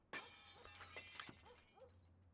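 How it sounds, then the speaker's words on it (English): Glass shattering as windows are smashed in the video game Vampire: The Masquerade - Bloodlines: a sharp crash followed by scattered tinkling shards, fairly faint and distant over a low background hum. "Someone's smashing windows."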